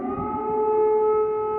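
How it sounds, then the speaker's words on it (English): An air raid siren wails in Kyiv with a sustained, steady tone, loud and unbroken, holding its pitch across the whole stretch. "Air raid sirens have been sounding throughout Kyiv"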